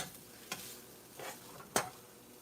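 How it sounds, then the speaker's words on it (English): Green peppers, red peppers and onions cooking in a pan for homemade barbecue beans, a soft steady sizzle broken by three brief scraping stirs, close and without talking. "I'm going to let it cook about another minute to make sure the green peppers and the red peppers and the onions are cooked down."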